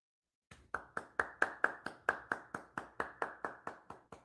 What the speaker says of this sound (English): A quick round of applause for them.